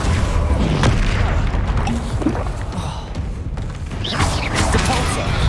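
An Incendio fire spell cast in the game Hogwarts Legacy, a loud whooshing burst of flame with booming impacts over a continuous rumble, among other rapid spell effects.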